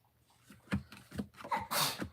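A single sharp sneeze bursts out near the end after some faint breathing and shuffling, loud and close in a quiet indoor room.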